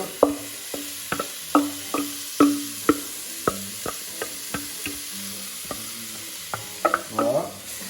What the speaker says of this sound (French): On va faire revenir tout gentiment.